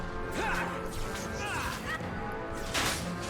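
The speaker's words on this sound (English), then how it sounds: "Explosion." Game audio from Dragon Age 2 with a loud crashing explosion burst and debris-like whooshes, busy layered effects and music throughout, with a second surge near the end.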